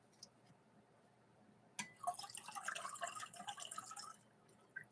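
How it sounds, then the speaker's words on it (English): Cocktail mixture poured into a glass for a minty crème brûlée Christmas drink: a brief splash of liquid, then about two seconds of steady, close pouring, fairly quiet and with no talk. "now we are going to pour in our mixture here"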